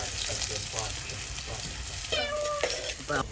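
Chopped onion with salt frying in a pan over a wood-fired clay stove, a steady sizzle with scraping stirs and bursts of crackle, voices murmuring faintly nearby.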